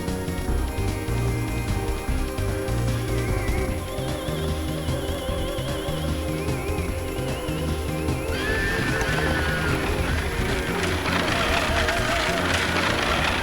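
Game-world horse on fire neighing in Parasite Eve, a loud whinny rising over a dense, steady bed of music and rumbling effects, with clip-clop and engine-like drone throughout.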